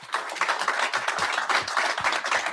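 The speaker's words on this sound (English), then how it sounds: "We love the cheers." Crowd at the 2026 Upper Deck NHL Draft announcement in Buffalo, dense and steady clapping and cheering that rolls on loudly without a break and has no speech over it.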